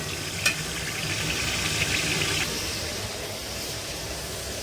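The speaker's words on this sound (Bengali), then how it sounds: "আর এলাচ এলাচি আর দারচিনি লং তেজপাতা এগুলো দিয়ে দিছি সব দিয়ে মশলাটা কষিয়ে দিচ্ছি" Whole spices, cardamom, cinnamon, cloves and bay leaf, fry in a pan with a low, even sizzle and a couple of faint clinks, quiet and unaccompanied by talk.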